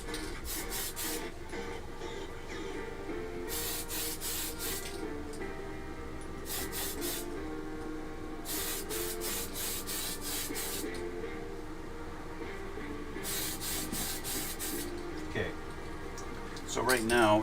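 An aerosol can sprays paint onto a PL-01 tank scale model in short bursts of hissing, separated by pauses, with a low background hum throughout.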